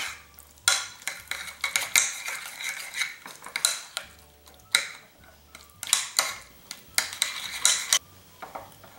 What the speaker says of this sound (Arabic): ثم غادي نخلط هاد المكونات حتى تجانس عندي مزيان